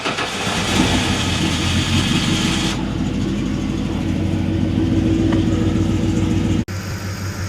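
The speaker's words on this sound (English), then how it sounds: "I never realized till just now just how quiet this engine is from up here" A big block engine in a Ford Bronco runs steadily with the exhaust closed, a low even rumble heard from up close and held at a constant level, with a brief cutout near the end and no talk.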